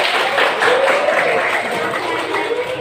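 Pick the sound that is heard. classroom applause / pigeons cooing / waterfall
classroom applause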